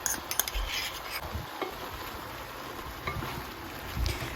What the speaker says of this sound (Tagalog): Mix it gently.